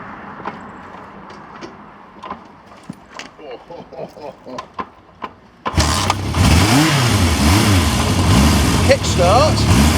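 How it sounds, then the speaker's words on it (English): A classic four-cylinder motorcycle engine is kickstarted: several sharp kick strokes and clanks, then the engine catches and runs loudly, rising and falling in revs while close by. "Kickstart."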